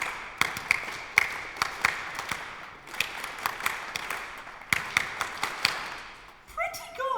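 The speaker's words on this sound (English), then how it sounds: "Should we clap it?" A classroom group claps a rhythm together for a Leaving Certificate music lesson, sharp near claps in a steady pulse with brief pauses between phrases, ending as a voice begins talking.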